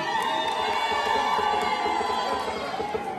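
A crowd ululates and cheers together for an assistant parish priest, a dense, continuous high trilling wall of voices held loud throughout.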